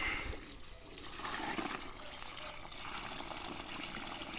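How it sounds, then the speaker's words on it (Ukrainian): A bucket of water mixed with fertilizer poured onto the soil under a grapevine bush outdoors, a steady close splashing gush lasting several seconds at an even level. "І зараз заливаю відерце води з добривом."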